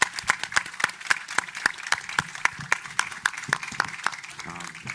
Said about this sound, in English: And big round of applause for Laurenz for moderating the panel.